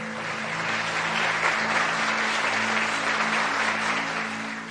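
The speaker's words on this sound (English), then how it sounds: "Can we clap for this chapter?" Audience applauding at a spiritual teaching session on the throat chakra, a dense, steady wash of clapping that holds for several seconds at moderate loudness before tapering slightly at the end.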